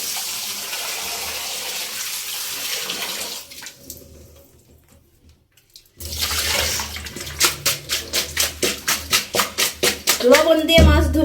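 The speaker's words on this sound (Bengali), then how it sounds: "মাছগুলো ধুয়ে নিই।" Water from a kitchen tap gushing steadily while fish are washed, stopping briefly, then running again with rhythmic splashing and sloshing as the fish are rubbed under the stream.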